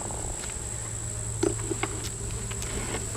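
Honey bees in a weak summer hive make a steady low hum that holds evenly throughout, with a constant high whine above it and a few faint taps from frames being handled.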